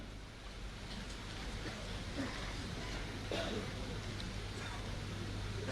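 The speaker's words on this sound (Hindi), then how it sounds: "बारिश हो रही है" Steady rain falls on an outdoor political swearing-in ceremony of a party in Rajasthan, a broad continuous hiss with a low hum running underneath throughout.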